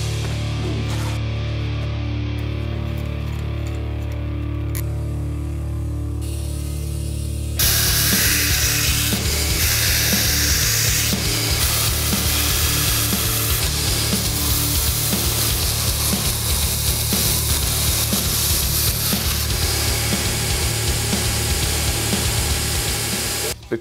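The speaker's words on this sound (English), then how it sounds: "That's in preparation for grinding this chisel." A grinder hums steadily before a belt grinder bites into a handmade Damascus steel knife blade for a chisel grind, bringing a loud, harsh, continuous grinding roar that runs on without pause.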